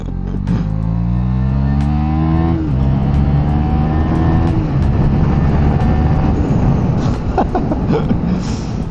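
KTM Duke 390 single-cylinder motorcycle with a de-baffled Akrapovic exhaust, revving loud and close: rising harmonic engine notes sweep up and drop in repeated throttle blips with crackling pops throughout, no talking.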